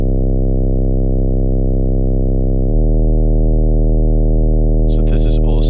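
A basic sub bass sine wave made in Serum with Decapitator distortion hums loud and steady, drops to a deeper pitch about halfway through, and a voice starts talking briefly near the end.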